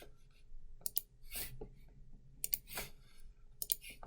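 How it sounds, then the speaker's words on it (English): A computer mouse clicking during trading software use, three small groups of quick clicks and soft rustles about a second apart, close and fairly quiet, with no talking. "left click and drag."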